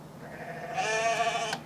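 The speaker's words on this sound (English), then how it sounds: "that's a goat sample" Goat bleat sample in a hip-hop beat, a single faint wavering bleat rising in the middle of the clip alone against quiet background.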